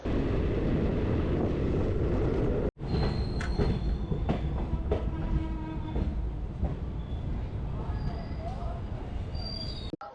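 A passenger train pulls into a station near Tarapith, its wagons rumbling loudly and steadily with rhythmic wheel clatter and faint squeals, the noise continuous at close range before cutting off abruptly.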